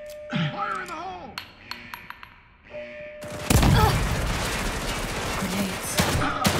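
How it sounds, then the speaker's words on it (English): Grenade explosions in the horror video game The Evil Within 2: a sudden loud broadband blast at mid-clip followed by sustained roaring, crackling debris and gunfire-like noise, after earlier metallic clinks and pings. "Grenades."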